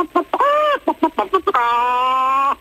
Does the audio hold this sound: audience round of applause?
no